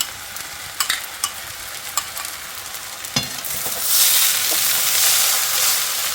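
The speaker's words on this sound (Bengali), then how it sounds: "এবার ভাতটাকে নাড়তে থাকবো এইবার চিংড়ি মাছগুলো দিয়ে দিলাম" Rice and prawns are stirred in a pot for a Bengali prawn pulao, with sugar just added. Scraping stir strokes and light sizzling come first, then a steadier, louder frying hiss builds over the last seconds, with no voices.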